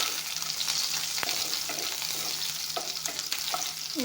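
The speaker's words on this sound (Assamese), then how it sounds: "পিঁয়াজখিনি আৰু পাঁচফোৰণখিনি অলপমান ভাজি ল'ম ধুনীয়াকৈ" Onions and five-spice frying in hot oil in a wok, a steady close sizzle with occasional stirring scrapes and clinks throughout, no voices.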